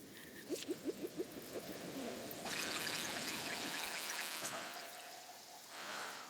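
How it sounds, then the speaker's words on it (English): Sea Swept white wine blend glugs from a twist-off bottle into a glass in a quick series of five or six soft, rhythmic gurgles, followed by a faint, steady trickle, all quiet and close. "Let's do a little pour."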